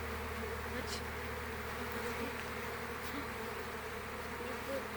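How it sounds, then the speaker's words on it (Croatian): A swarm of bees buzzes in a steady, continuous drone that holds evenly throughout, with no voices. "I vidi koliko pčela"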